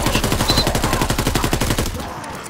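The GDB 79 AR rifle in a WWII video game fires a loud, rapid automatic burst of closely spaced shots lasting about two seconds, then a short tail.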